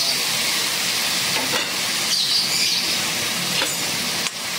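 Tomatoes dropped into a hot pan for brinjal and tomato curry give off a loud, steady hiss of sizzling that carries on for several seconds, with faint clatters and no voices.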